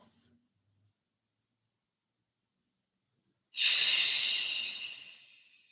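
A deep breath during a yoga flow: after a few seconds of near silence comes one long, close, airy exhale that trails off slowly at the end.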